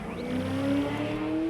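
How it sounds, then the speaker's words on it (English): In Paper Mario: The Thousand-Year Door, a car engine outside revs with a continuous rising motor whine that climbs in pitch over about a second and a half, loud and steady, with no voices. "Someone's revving their car outside."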